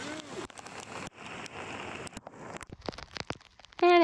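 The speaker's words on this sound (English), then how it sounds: "Now, remember we're in the rainforest, and so it rains." Rain falls in the French Guiana rainforest, a rushing patter on leaves with scattered drips and sharp crackles, broken by brief gaps and a tonal call near the end.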